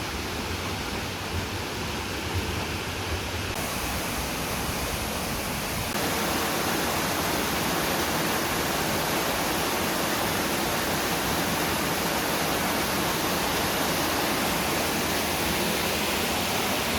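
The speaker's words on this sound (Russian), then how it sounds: "Вот водопад такой." Waterfall in the Peruvian jungle, a dense, constant roar of falling water that fills the whole clip, growing slightly louder partway through, with no voices.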